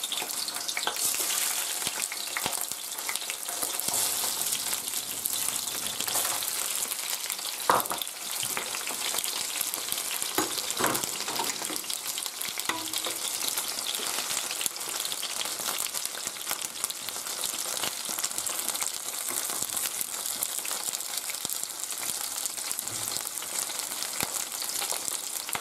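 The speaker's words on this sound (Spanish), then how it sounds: "Lo primero que tenemos que hacer es sellar las gambas y las cigalas." Prawns and langoustines sear in hot olive oil with a dense, steady close-up sizzle and crackle, punctuated by occasional clinks and scrapes as the shellfish are turned in the pan.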